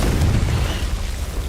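A Confringo spell explodes in Hogwarts Legacy, a loud, deep booming blast with rumbling low-end that fills the brief moment without any talk.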